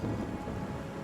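Rain and thunder roll through the video game Ori and the Will of the Wisps as a low, steady rumble with a soft wash of rainfall, fairly quiet and with no voices.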